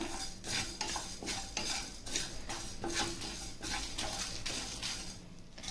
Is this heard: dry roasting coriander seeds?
yes